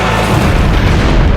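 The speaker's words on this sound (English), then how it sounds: "Keith's fuel tank, carrying 90 liters of nitromethane fuel, ruptured and led to the explosion" Fuel tank of a drag racing car, carrying nitromethane fuel, exploding in a deep, loud, sustained boom that fills the whole clip.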